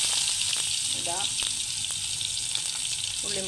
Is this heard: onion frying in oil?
yes